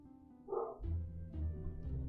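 A dog gives a few quick barks in a row, moderately close, with a muffled indoor quality and no talking.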